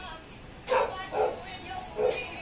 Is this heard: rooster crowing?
no